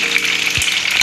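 Brief, close burst of hot oil sizzling around a frying egg, a dense steady crackle with one soft low bump midway.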